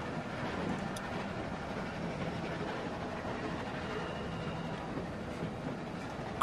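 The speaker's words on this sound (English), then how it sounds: "Stop the train." Moving train in The Walking Dead video game, a continuous rolling rumble with faint clickety-clack of the cars, steady and mid-distance, with a few voices briefly over it.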